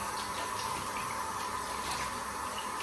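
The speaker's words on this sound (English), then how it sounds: "Then I'll rinse the cloth," Tap water running steadily into a sink as a washcloth is rinsed during a skin care routine: a continuous, fairly quiet splashing hiss with no talking.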